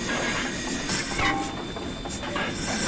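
A New Zealand Railways Kb class steam locomotive idles in a train simulator game, giving off a steady broad steam hiss with a few brief releases and faint mechanical clanks.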